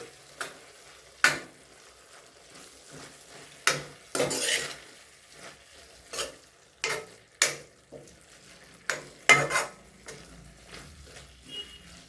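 Ridge gourd curry with coriander being stirred in a pan, with a utensil scraping and clinking against the metal in irregular bursts over a faint, quiet sizzle, with no talking.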